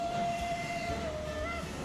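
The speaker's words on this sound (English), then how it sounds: "Yes, you toot your whistle." A steam-era train whistle in the Transport Fever 2 railway game gives a long, steady toot that dips briefly before going on, heard alone over a continuous rolling rumble of the train.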